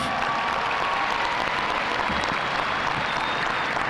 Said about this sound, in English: give yourselves a round of applause because it's very impressive.